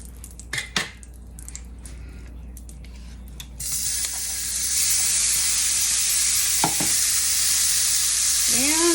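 Seasoned shrimp sizzle as they brown in a hot pan for jambalaya with andouille sausage, a few stirring scrapes at first, then a steady loud frying hiss taking over and holding alone.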